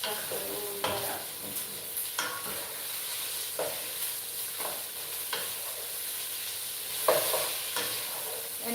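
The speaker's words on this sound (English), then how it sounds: "Just want to stir fry all that up." Vegetables, sausage and French beans stir-frying in a pan, a soft continuous sizzle broken by repeated scraping and clattering stirs, close by and moderately quiet.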